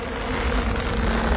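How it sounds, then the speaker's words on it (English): Cartoon bee swarm from a Winnie the Pooh film buzzing in a steady, dense drone that fills the whole moment at close range, with no voices over it. "I can't hear you over all that buzzing."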